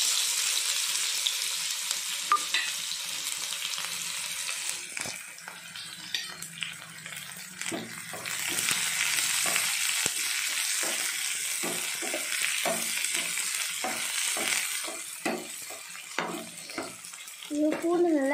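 Garlic and green onion fry in a pan, giving a continuous bright sizzle with repeated scraping stir strokes, close and moderately quiet, with no voices.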